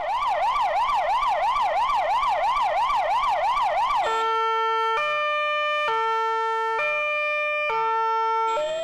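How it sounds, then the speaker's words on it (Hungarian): An ambulance siren wails loudly, first in a fast rising-falling warble, then switching to a steady two-tone hi-lo pattern. "A kicsiknek talán a legjobban a szirénázó mentőautó tetszett."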